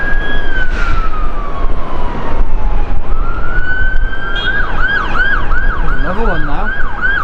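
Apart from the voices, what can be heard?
fire engine siren at Manchester Airport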